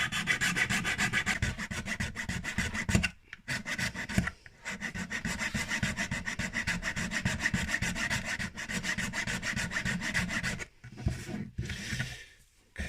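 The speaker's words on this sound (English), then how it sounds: "I think I used a file." A hand file scrapes back and forth across a small robot foot part in quick, even rasping strokes, close and steady, broken by a few brief pauses.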